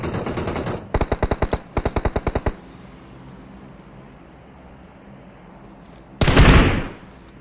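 Rapid automatic gunfire in PUBG Mobile: two loud bursts of evenly spaced shots early on, a quiet stretch, then a single heavy, broad blast near the end.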